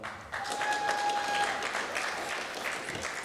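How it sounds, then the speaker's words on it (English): Steady crowd applause at a graduation ceremony, moderately distant and even, with dense clapping continuing throughout. "if you could hold your applause till the end, it would be very, very much appreciated"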